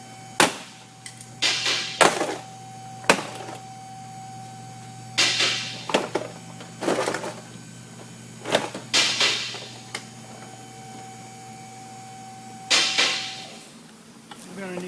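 Sharp plastic snaps and pops as trim fasteners release from a 2007 Chrysler Sebring's front door, several scattered bursts spread across the clip, close and fairly crisp, with quieter handling noise between them.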